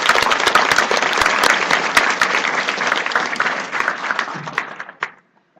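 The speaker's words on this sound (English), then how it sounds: "A big round of applause for her," An audience at a UX design talk applauds the incoming speaker, a Director of UX at Ecobee, with steady full clapping that thins into scattered claps before stopping abruptly.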